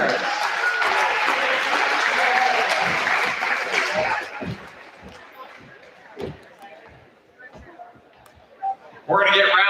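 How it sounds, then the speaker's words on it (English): Applause rises in a school gym at a middle school wrestling event honoring eighth graders and their parents, strong for about four seconds, then fades into scattered claps, thuds and a voice, with a loud burst at the end. "One big round of applause for 8th graders and their parents."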